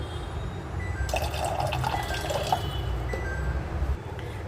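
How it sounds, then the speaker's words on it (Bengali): Water being poured over washed chicken in a bowl to soak it in vinegar water, a steady close splashing and filling rush lasting a few seconds before it tapers off, with no talking. "ভিনিগারের জলেতে এবার চিকেনটাকে একটু ভিজিয়ে রাখবো"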